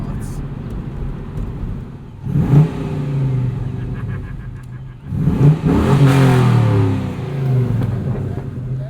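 A 2004 Pontiac GTO V8 with mid pipes revs in two loud surges, the engine note rising and falling each time over a steady idle, heard from inside the car with voices talking over it.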